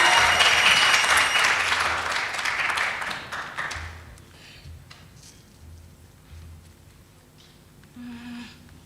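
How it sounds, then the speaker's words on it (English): Audience applause welcoming a Rhodes University participant onto the stage at a regional entrepreneurship intervarsity competition, loud and dense at first, then thinning and fading out over several seconds into quiet room sound. "Please, big round of applause."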